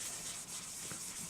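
Light, steady rubbing over the frets of a Tradition T20Q Strat guitar fretboard to clear away dust and grime, a soft continuous scrubbing close up with a faint stroke near the middle.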